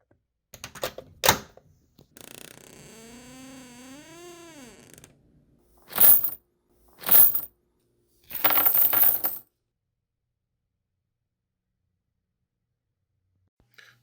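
Gold coins clink and rattle in a few brief, bright metallic bursts between silences, after a short mechanical whir near the start.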